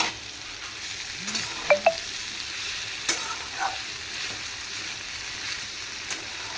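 Bitter gourd sabji sizzles and fries steadily in a pan while a spoon stirs through it, scraping and knocking a few times against the pan up close.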